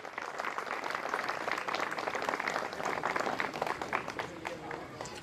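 A crowd at a welcome ceremony for IPS officer Dr. Girishbhai Pandya in Bhavnagar gives hearty, sustained applause. The dense clapping fills the room evenly throughout, with faint crowd murmur mixed in.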